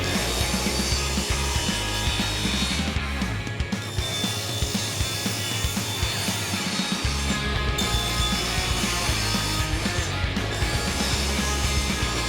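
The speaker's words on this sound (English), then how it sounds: "We can set a rip fence and start getting everything cut to finish" A table saw rips through wood with a loud, continuous grinding buzz, briefly dropping in pitch as it bites, then running on steadily.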